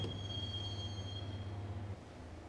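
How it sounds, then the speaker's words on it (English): A train in the Max Payne video game rolls into a subway station with a steady rumble, a thin high wheel squeal ringing over it that fades as the train slows and the noise drops. "the train doors had already shut behind me, and I was in for the ride"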